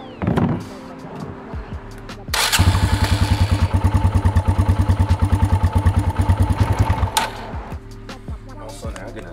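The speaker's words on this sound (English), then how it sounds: "we're gonna turn on the bike, let it run for about 10 minutes or so" A 2022 Kawasaki KLX dirt bike starts with a burst and settles into a loud, rapid single-cylinder idle that throbs steadily for several seconds up close, then stops.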